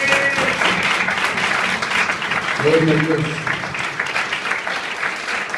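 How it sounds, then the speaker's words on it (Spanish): A church congregation applauds loudly during a sermon, a dense, continuous burst of clapping that carries on while a voice speaks over it. "Denle un fuerte aplauso al Señor."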